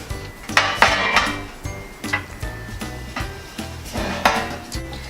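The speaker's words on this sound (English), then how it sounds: "I'm going to get a tray and I'm going to be placing everything on this tray" Halved vegetables set down on a baking tray one after another, producing repeated clattering knocks and clinks of metal at an uneven pace, close and fairly loud with no talk.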